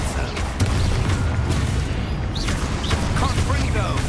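Expulso spell explosion in the Hogwarts Legacy video game: a dense, sustained booming blast with rumbling debris, fairly loud, with game voices faintly in the mix.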